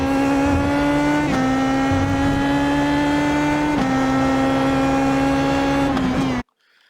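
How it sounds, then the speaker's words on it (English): A race car in a racing video game at Circuit Gilles Villeneuve powers out of a corner, a loud steady engine drone that climbs in pitch between gear shifts, then cuts off abruptly. "Get that inside curb and then accelerate hard"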